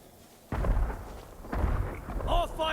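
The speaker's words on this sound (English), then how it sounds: "More fireworks! On all sides!" Fireworks explosions in the Ghost of Tsushima video game, heavy booming blasts that hit loud and close, one sharp onset and then another, with a shouting voice over the din.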